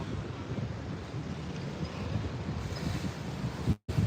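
Steady wind rushing and buffeting outdoors near the water in the Philippines, a continuous low roar with a brief dropout near the end; no one speaks.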